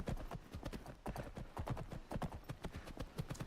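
Horse hooves clip-clop in a quick, steady rhythm of close, crisp thuds in the Skyrim video game. The gait runs continuously with no pause, and a faint voice sits in the background.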